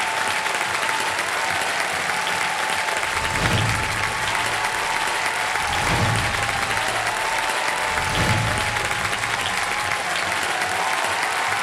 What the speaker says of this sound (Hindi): मैं चाहता हूं कि तालियों के साथ स्वागत किया जाए खान सर का